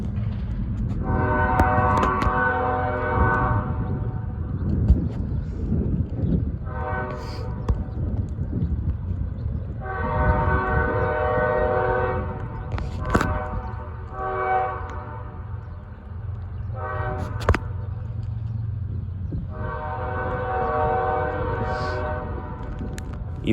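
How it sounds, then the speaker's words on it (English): A northbound BNSF grain train led by three GE Evolution Series locomotives rolls past nearby, its horn sounding in repeated long blasts over the continuous rumble and rattle of the passing cars. "the headlight of the northbound grain train we saw in Fremont rounded the bend"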